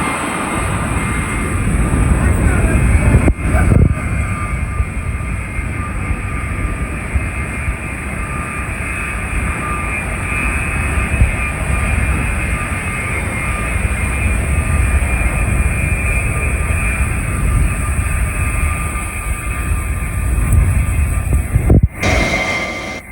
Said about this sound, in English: Those big carbon fiber blades throw a lot of air.